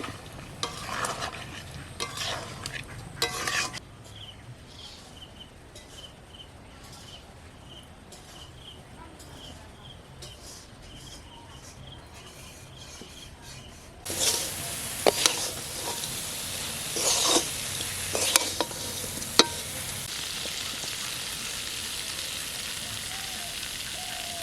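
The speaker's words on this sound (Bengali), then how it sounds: "এখন এই যে চিনির যে জলটা বেরিয়েছে এটাকে আমি টানিয়ে নেবো একবারে পুরোটা" Ash gourd being stirred in its own sugar syrup while morabba cooks in a pan. A soft, steady scraping and bubbling runs quietly under the first stretch, then turns louder and more active with clinks for the last ten seconds.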